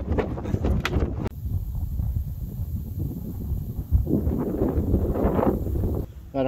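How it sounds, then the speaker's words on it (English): Cold, gusty wind buffets the microphone outdoors at Chalco Hills Recreation Area in Omaha, Nebraska, a steady loud rumble that swells and eases throughout, with a brief dip near the end. "It is cold and windy out here"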